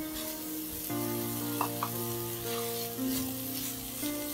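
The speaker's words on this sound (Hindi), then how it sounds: "अब इसको हम हल्के से फ्राई करेंगे" Khoa, 350 grams, frying gently in a heated kadhai: a soft, even sizzle under a sustained droning tone from the kitchen, with a couple of faint spoon taps, close and quiet with no talk.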